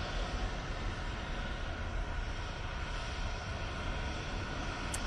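An airliner departs Manchester Airport bound for Palma de Mallorca, a steady broadband jet roar at moderate distance that holds evenly throughout without any voices.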